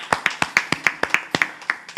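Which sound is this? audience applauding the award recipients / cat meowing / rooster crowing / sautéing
audience applauding the award recipients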